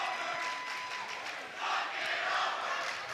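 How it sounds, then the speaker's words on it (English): A high school basketball crowd from the Lexington cheering section roars at a district semifinal, a dense sustained wash of cheering and shouting that swells slightly midway, heard at a distance in a gym. "The Lexington cheering section giving it to the Mansfield Senior Tigers."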